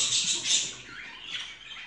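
High, scratchy squawks from budgerigars, close and fairly loud, strongest at the start then tapering into softer chatter.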